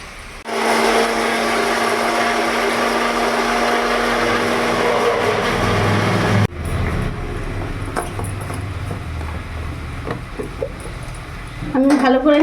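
An electric mixer grinder whirs loudly and steadily for about six seconds as it blends ingredients with a splash of water into a fine paste for Malabar spinach chorchori. It then cuts off, leaving quieter kitchen clatter and handling noises.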